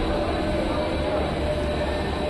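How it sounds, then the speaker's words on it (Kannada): A train pulling out of platform 1 at Hubli Junction makes a loud, steady rumble and rolling roar that stays even from start to finish, with no distinct voices. "ಪ್ಲ್ಯಾಟ್ಫಾರ್ಮ್ ನಂಬರ್ 1ರಿಂದ ಹೊರಟಿದೆ ನಮ್ಮ ಟ್ರೈನು"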